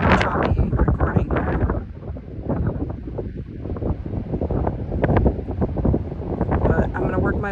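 Strong wind buffets a handheld phone outdoors at a fortress on Terceira Island, loud gusty rumbling and choppy bursts running throughout beneath a person talking.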